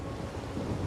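Steady rain and a low thunder rumble from the video game Wuthering Waves, filling the short stretch as a continuous dense wash with no speech.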